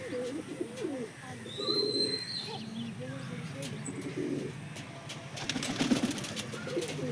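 Pigeons coo in a loft, with soft, throaty repeated calls close by, a few sharper chirps, and some wing flutters and handling noises mixed in.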